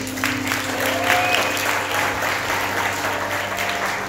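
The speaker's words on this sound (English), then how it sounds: "Give them a round of applause, please." An audience gives a round of applause at a gathering, steady dense clapping that fills the room for several seconds, with a faint tonal hum and brief whistle-like notes over it.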